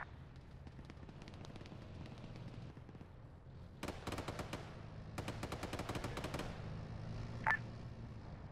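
Repeated bursts of automatic gunfire from an enemy tank in the military game Arma 3, in sharp clusters of rapid shots over a steady low rumble, with one louder crack near the end.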